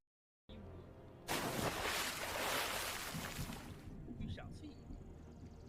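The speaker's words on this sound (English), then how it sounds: "Why did I hear water?" Water in the Ace Attorney video game, a sudden loud splashing, rushing burst lasting a few seconds before fading back into a quieter background with a faint voice.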